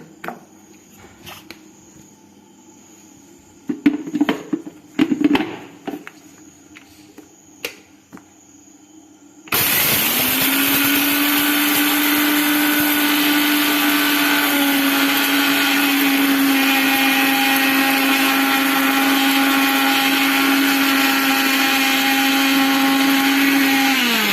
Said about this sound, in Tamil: சர்க்கரை சேர்த்து பவுடர் பண்ணும்போது ஏலக்காய் நல்லா பவுடர் ஆகும்.